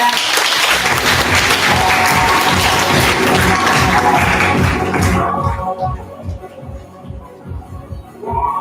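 A large audience claps loudly to welcome a speaker at a meeting, dense applause that thins and fades out into scattered claps over the last few seconds.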